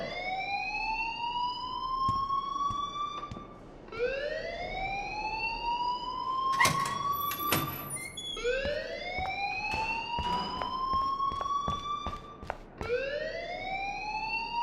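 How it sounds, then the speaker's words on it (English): A school fire alarm from the game Life Is Strange wails in repeated rising sweeps, about four long cycles, loud and continuous, with a couple of sharp clanks partway through. "please turn off that alarm since that's your job"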